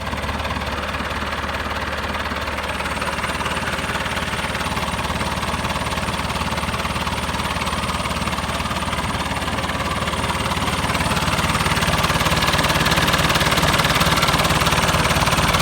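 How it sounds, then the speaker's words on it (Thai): A John Deere tractor engine runs steadily at close range, a loud continuous diesel rumble with a rough, knocking vibration that grows slightly louder toward the end, with no talking over it. "นี่คือรถไถนะครับ จอนเดียนะครับ"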